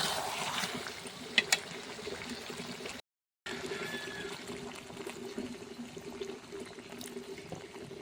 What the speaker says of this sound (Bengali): এবারে এতে পরিমাণ মতো একটু জল দিয়ে দিব